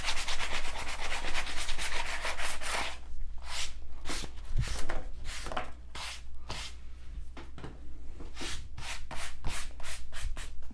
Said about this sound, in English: I'm going to take a little bit of sand, my sanding block, to it.